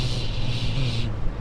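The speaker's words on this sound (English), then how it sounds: "you can hear so much wind noise" Steady wind roar inside a moving Toyota MR2 ZZW30 heard from the cabin, a continuous broad rush over low road and engine drone that drops away near the end.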